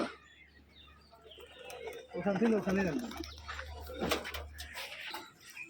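Old-generation pet pigeons give a close, throaty cooing call with rolling, warbling notes, set against soft background noise and a low steady hum.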